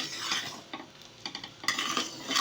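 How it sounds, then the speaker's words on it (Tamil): A spoon stirs flour into boiling sugar syrup in a metal pan for milk powder coconut burfi, giving repeated scraping and clinking strokes over a low bubbling sizzle, close and fairly loud. "நம்ம இந்த மாவு போட்டு கலக்கணும்"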